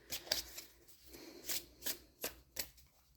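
Tarot cards being shuffled up close, heard as a series of quick papery riffles and soft slaps coming in evenly spaced bursts about every third of a second, quiet and with no voices.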